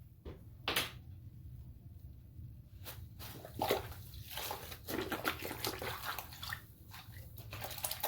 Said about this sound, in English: I'm gonna fill up the basin.